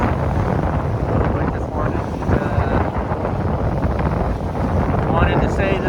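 Wind roars steadily over a sailboat heading back to a marina on an October sail, with water wash and boat noise under a constant close blustery rush across the microphone.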